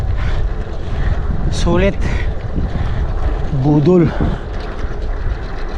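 A strong headwind buffets the microphone during a solo road bike ride on flat ground, a loud continuous low rumble throughout, with someone speaking over it.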